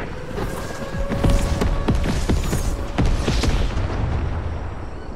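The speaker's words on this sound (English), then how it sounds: "See this fishing pole right here? I'm gonna airstrike it." Airstrike explosions in a video game, targeting a fishing pole, come as a rapid string of loud booms and blasts, several close together, over a constant rumbling roar with no talking.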